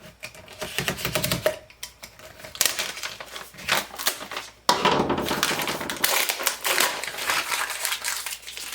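Plastic crinkles and crunches in irregular bursts as a label is cut and torn from a plastic bottle, with close, scratchy rustling and snipping that comes in uneven clusters and grows denser toward the end.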